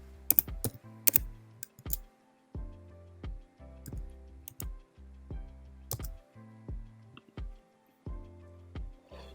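Computer keyboard typing in bursts of quick, close keystrokes, entering a venue address into a fishing match app, with short pauses between runs of keys and no talking.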